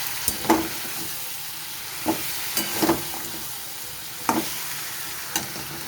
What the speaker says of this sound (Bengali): গুড়টা দিয়ে নেড়ে চেড়ে নেবো এইভাবে।